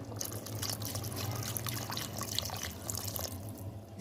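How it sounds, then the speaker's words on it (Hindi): Water pours into a pot of chicken nihari as the broth is built up, a steady liquid trickle and splashing running continuously and close by, with no voices over it. "तकरीबन इसमें थोड़ा सा पानी मैं और डालूंगी"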